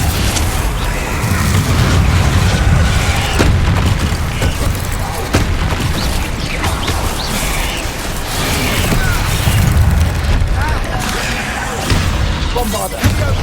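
Bombarda explosion spell cast in the video game Hogwarts Legacy, heavy booming blasts repeating through a loud, dense stretch of combat with rumbling impacts and clattering debris, no talk.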